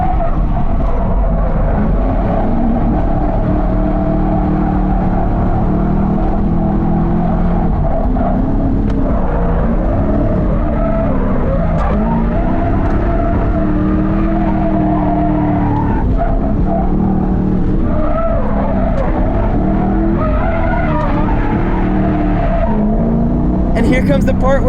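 Car drifting in second gear on a front course track, engine revving and falling in long sweeps with tire squeal and skidding throughout, loud and close, with a voice talking over it at times.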